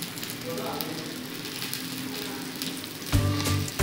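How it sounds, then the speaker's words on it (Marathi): Semolina-coated veg cutlets sizzle in oil on a tava, a crackling fry throughout with a louder burst as another cutlet is set down near the end, with some quiet speech. "आता हे रव्यामध्ये व्यवस्थित आपले असे कटलेट घोळवून घ्यायचे आहेत आणि या पद्धतीने आपण तव्यावरती ठेवायचे आहेत."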